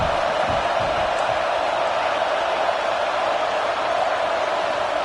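A football stadium crowd roars steadily and loudly throughout, a dense, unbroken wash of cheering during an American football game.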